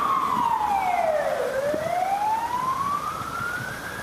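A single loud ambulance siren tone sweeps down, then slowly rises again, over a low rumble of traffic in a village.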